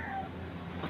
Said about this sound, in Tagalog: O pusa nga.